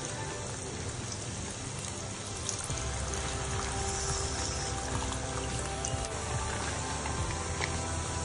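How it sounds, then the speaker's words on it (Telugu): Water is poured into a cooking pot of rice being prepared for sambar rice at home. It makes a continuous splashing rush that holds evenly for several seconds at close range, with no talking. "వాటర్ పోసేసుకుంటున్నాను"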